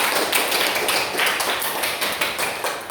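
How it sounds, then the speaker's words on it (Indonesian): A class of students claps hands together during a science lesson in a classroom, a dense run of quick, crisp claps that stays fairly steady for about three seconds with no talking. "kita berikan tepuk tangan untuk Sandra."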